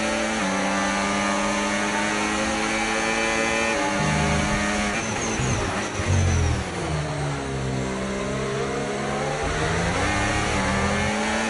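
Formula 1 cars at the Red Bull Ring in F1 25 scream past in an overtake, the loud high-pitched engine whine rising and falling in pitch as the cars jostle close by, with no talk over it.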